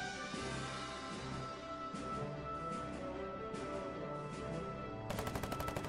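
Submachine gun fire in the trench-warfare video game Foxhole: rapid bursts of shots over a humming tonal background, with a sharper, quick rattling burst near the end.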